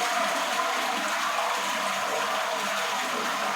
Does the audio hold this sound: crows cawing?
no